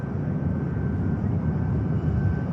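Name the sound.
Ryanair airliner at Manchester Airport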